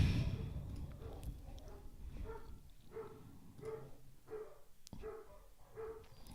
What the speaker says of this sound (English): Can you hear those dogs?